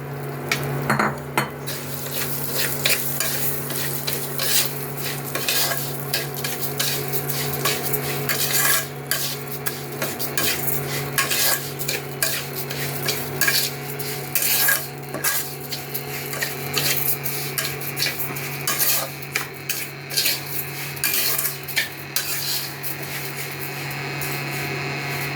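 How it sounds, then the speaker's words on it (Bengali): Gobindobhog rice frying in oil while being stirred, with constant scraping and rubbing of a utensil through the grains against the pan, close and busy over a steady hum. "আমি এখন এই চালটা, গোবিন্দভোগ চালটা ভেজে নেবো এই তেলের মধ্যে।"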